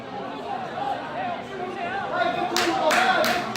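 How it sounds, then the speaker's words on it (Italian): Football fans applauding at the Matranga stadium during a Castellammare versus Bagheria Eccellenza Sicilia match, a steady crowd murmur of clapping and chatter that swells near the end under a commentator's voice. "Gli applausi del Matranga."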